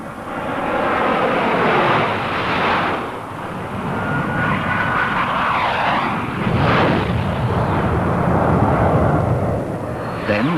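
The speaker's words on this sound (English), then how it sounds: "Flight Lieutenant Jones leads his team through a series of low-level maneuvers and formation passes" RAF display team aircraft of the 1950s–60s roar overhead in low-level formation passes, a loud continuous engine rush that swells and fades as the planes sweep by.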